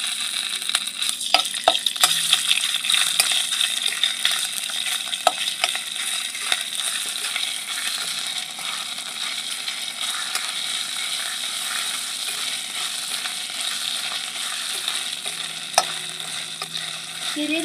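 Ginger paste sizzles in hot oil in a pan with whole garam masala while a utensil stirs and scrapes it, a steady loud frying hiss broken by repeated clicks and scrapes, close up with no talking.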